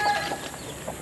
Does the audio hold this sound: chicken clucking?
yes